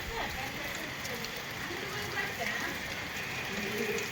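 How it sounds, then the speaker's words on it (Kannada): Heavy rain pours down outside a house, a steady, even hiss of falling water that holds at the same level throughout with no gaps. "ಮಳೆ ನೋಡಿ ಫ್ರೆಂಡ್ಸ್, ಹಾಕ್ಲಾಗ್ತಿದೆ."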